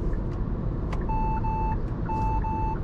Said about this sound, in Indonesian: ada bunyi tutut tutut, dia akan memperingatkan